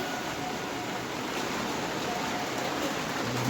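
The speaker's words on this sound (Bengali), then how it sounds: "বৃষ্টি জোর বৃষ্টি শুরু হলো" Steady heavy rain pours down as a dense, continuous hiss with no pauses.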